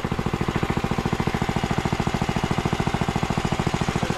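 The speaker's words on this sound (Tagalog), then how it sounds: "Yung makina natin malakas." An engine runs loudly with a fast, even mechanical pounding, a steady rapid thudding rhythm that never lets up, close and dominant with no other sounds over it.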